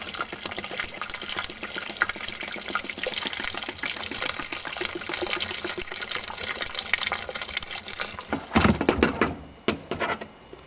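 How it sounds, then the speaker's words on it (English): Liquid cleaner glugs steadily out of a bottle into a Whirlpool water softener for several seconds, then a few knocks and splashes as it empties. "just pour the entire bottle into here"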